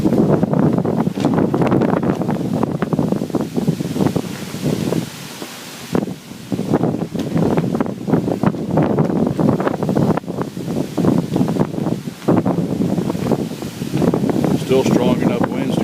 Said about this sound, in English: Heavy winds coming from the north now.